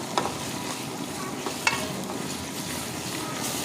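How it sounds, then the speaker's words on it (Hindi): Red chili, turmeric and salt frying in a pan while being stirred, a close, steady sizzle with a couple of sharp spoon scrapes against the pan. "इसे हम 1 मिनट तक अच्छे से भूनेंगे।"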